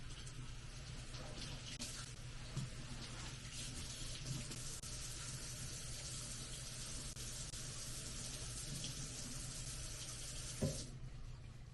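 Running tap water pours steadily into a sink while a bag is rinsed beneath it, a continuous close splashing hiss with a brief louder splash near the end.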